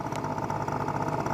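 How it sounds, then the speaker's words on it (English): Honda Spree scooter engine idling slightly high after carburetor work, a close, steady, rapid putter with a fine mechanical clatter. "I hear the idle's just a little high right now, but it is running"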